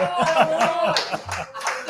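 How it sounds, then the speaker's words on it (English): A crowd at a football postgame show claps and cheers in a quick burst of rhythmic hand claps mixed with laughter and voices, fairly close and lively throughout. "People cheering, let's go."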